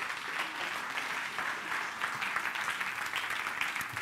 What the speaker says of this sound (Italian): Fategli un applauso ancora